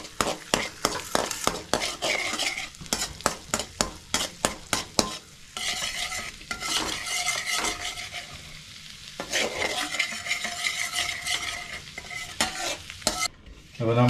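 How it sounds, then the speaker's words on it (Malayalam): Garlic sautéing in butter in a pan, a steady sizzle broken by quick, repeated stirring scrapes of a utensil against the pan, close and fairly loud throughout with no talking. "എന്നിട്ട് അതൊന്ന് വഴറ്റിയെടുക്കാം."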